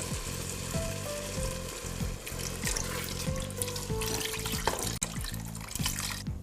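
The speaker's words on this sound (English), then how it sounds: "Now I'm going to add some water." Water is poured into a simmering curry pot holding tomato, curry powder, turmeric and coconut milk, a steady wet splashing and sizzling stream, close and continuous with a low hum underneath.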